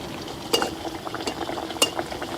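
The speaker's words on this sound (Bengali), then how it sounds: "এখন আমি লুচিগুলো এর ভিতরে একটা একটা করে দিয়ে দেব" Palm-flavoured luchi drop one by one into smoking-hot oil, giving a steady low sizzle broken by a few sharp clinks of a utensil against the pan.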